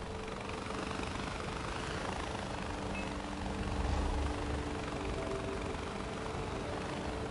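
A helicopter engine in the Far Cry 4 video game drones steadily throughout, a continuous low rotor and turbine hum that swells briefly midway, with no talk over it.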